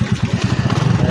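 A lowered motorcycle engine runs close by with a steady, chugging low pulse and a rough, rhythmic throb that stays loud through the whole short stretch.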